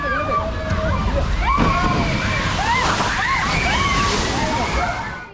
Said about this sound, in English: Ready for the big splash.